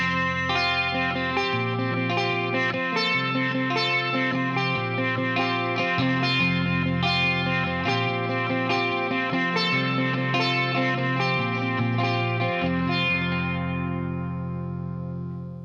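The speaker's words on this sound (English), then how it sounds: "that is sort of that main opening sitar guitar part" An electric guitar through effects plays the sitar-like opening part of a song, a drony, shimmering, repeating phrase over low bass notes, continuous and loud with no talking.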